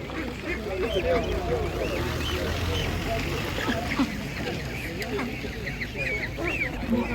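Ducks quacking at a Ukrainian livestock market, several birds calling repeatedly in overlapping bursts over a busy crowd murmur while someone talks nearby.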